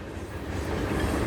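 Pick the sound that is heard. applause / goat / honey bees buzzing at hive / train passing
train passing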